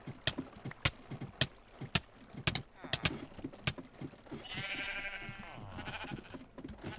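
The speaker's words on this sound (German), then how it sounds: "Das sind unsere Schafe." Sheep in the Minecraft video game let out a wavering, nasal bleat mid-clip, following a run of sharp rhythmic clicks and taps from the gameplay.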